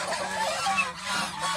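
Domestic geese on a goose farm give a few short nasal honks, fairly faint and close, with a brief pause between calls.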